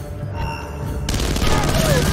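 Gunfire in Splinter Cell Conviction, a Washington Monument stage: a sudden dense burst of automatic shots kicks in partway through and keeps rattling loudly, with in-game voices underneath.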